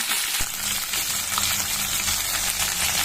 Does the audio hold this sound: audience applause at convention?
no